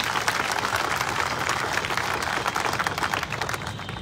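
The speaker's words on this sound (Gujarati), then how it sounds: "તમારી પાસેથી મારે એર ઇન્ડિયાના પાયલોટો માટે એક તાળીઓનો ગડગડાટ જોઈએ." Steady crowd applause at a public political meeting in Olpad, Surat, a dense wash of many hands clapping continuously and fairly loud for the whole stretch, with no speech over it.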